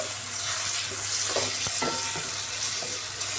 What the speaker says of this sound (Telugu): కొద్దిగా గరం మసాలా ఇప్పుడు ఒక బాగా కలుపుకొని